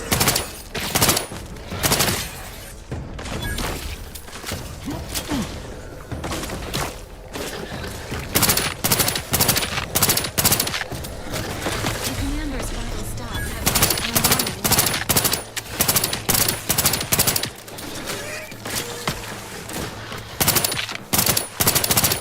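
Dense, continuous automatic gunfire from the video game The Outer Worlds 2 rattles in rapid bursts with booming impacts across the whole stretch, loud and close, with brief gaps between volleys.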